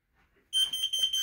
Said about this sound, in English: I really like the smoke detector.